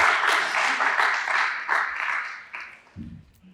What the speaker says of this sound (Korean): 서로에게 격려의 박수 한번 할 수 있었으면